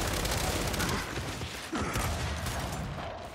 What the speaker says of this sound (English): Let's see if we can try and use this grenade launcher, right?